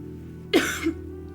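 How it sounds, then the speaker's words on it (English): A single short cough, close and fairly loud, followed by a faint throat sound against a quiet background hum. "she's also got that cough, I've noticed."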